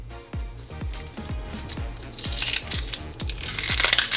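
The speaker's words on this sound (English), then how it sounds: "you find the root and cut straight down through the root, all the way through" A knife chops through an onion on a cutting board, a run of crisp, evenly spaced crunching cuts close by that speed up and grow louder toward the end, with no voices.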